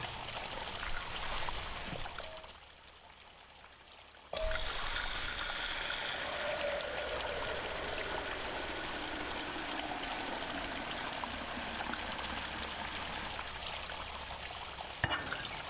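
Water being scooped from a stream in the game Mundaun, a steady trickling and splashing that runs for most of the clip after a short quieter gap near the start, with no voices.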